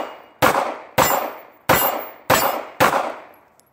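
Five loud, sharp 9 mm shots from a Star B pistol ring off steel plates at a shooting range, each report followed by a ringing metallic clang, spaced roughly half a second to a second apart, close to the recorder.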